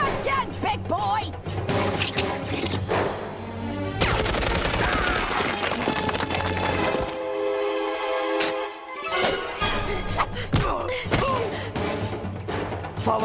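Cartoon gunfire in a jungle adventure erupts as a loud, dense volley of bangs and crashes mixed with music and excited shouting voices.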